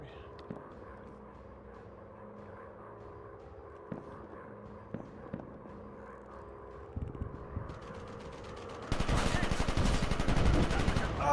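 In a video game, a fighter jet strafes with gunfire: after scattered sharp shots and mechanical clicks, a loud, sustained burst of rapid automatic fire erupts and roars on to the end.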